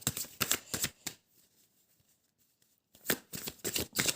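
A deck of oracle cards is shuffled for a reading, heard as quick riffling bursts up close. A pause falls in the middle before the shuffling resumes.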